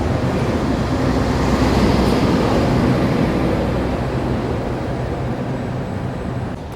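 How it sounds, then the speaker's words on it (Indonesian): Papandayan passenger train with executive and panoramic cars departing Gambir station, a steady loud rumble of wheels and carriages rolling past close by, slowly easing off toward the end. "ini dia Papandayan diberangkatkan dari stasiun Gambir dengan kelas eksekutif dan panoramik"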